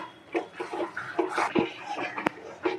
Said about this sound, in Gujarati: હવે આમાં પાણી નાખી દઈશું